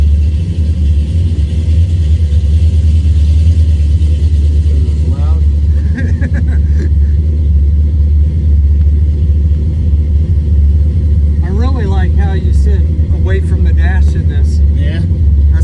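A deep, steady old car engine rumble drones throughout at close range while driving, with a voice talking intermittently over it.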